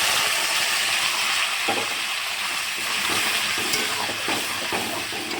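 Ground spice paste, for a raw jackfruit and prawn curry, drops into hot tempering oil and fries with a steady, loud sizzle and hiss that runs unbroken, with faint stirring clatter and no talk.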